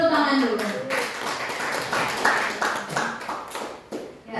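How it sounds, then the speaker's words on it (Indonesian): A room of teachers at a talk show claps briefly, with speech running over the applause throughout. "Beri tepuk tangan dulu."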